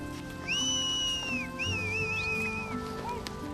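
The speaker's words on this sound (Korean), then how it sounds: "사람들은 연신 휘파람을 붑니다" Mongolian nomad herders give two long, bright whistles that rise and glide across the clip, with a shorter whistle near the end, to yaks on a snowy Siberian mountain trail, over a low outdoor rumble and shuffling.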